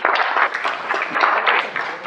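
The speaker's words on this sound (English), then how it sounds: "How about another big round of applause for you and the audience?" An audience at a ceremony honouring Chinese American WWII veterans claps in sustained applause, a dense, loud wash of many hands that swells and dips slightly throughout.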